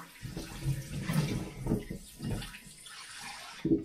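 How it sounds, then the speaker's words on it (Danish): A stick is rinsed under running water from a tap, giving a soft, irregular splashing and gurgling in short bursts, fairly close and quiet, with a brief louder splash at the end. "Så lad os skylle øh, stregpinden her."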